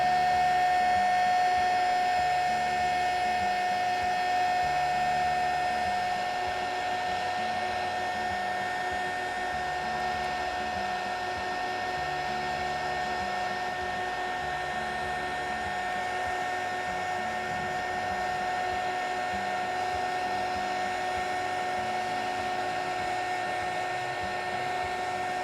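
A hot air gun blows steadily at the wax surface of a crystal candle, making a continuous whining whir with a high tonal hum that runs unbroken from start to finish.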